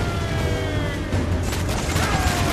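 Ship cannons fire in broadside volleys during a naval battle in Assassin's Creed 4 Black Flag, heard as dense, rumbling booms and mechanical clatter that continue steadily at moderate loudness.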